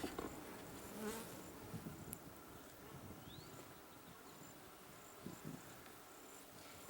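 Honeybees buzz steadily around an open top-bar hive during a June inspection, a faint, dense drone of many insects close by, with light rustling and occasional single bees passing near.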